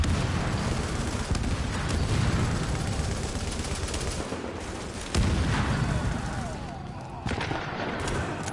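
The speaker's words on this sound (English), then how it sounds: "Shoot him dead." Gunfire in The Division multiplayer as an enemy is shot down, dense bursts of shots and booms filling the mix alongside game noise, with a player's voice talking over it.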